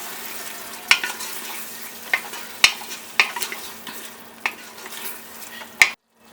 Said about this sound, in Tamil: நம்ம தயிர் சேர்த்து அதையும் நல்லா மிக்ஸ் பண்ணி விட்டுக்கலாம்.